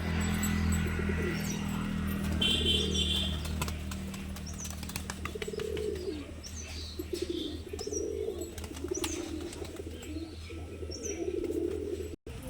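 Pigeons at a Bengali pigeon seller's loft, with soft repeated cooing in a steady series over a constant low hum, plus scattered chirps and a brief flutter of wings.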